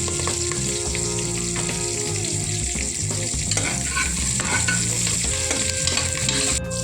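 Onions sauté in a pan with a loud, constant sizzle while a spoon stirs them over and over, scraping the metal in a steady rhythm. No voices.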